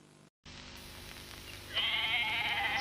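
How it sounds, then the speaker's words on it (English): Grazing sheep bleat loudly and close in the second half, after a soft, quiet field ambience at the start. "there's nothing more peaceful than the sight of grazing sheep"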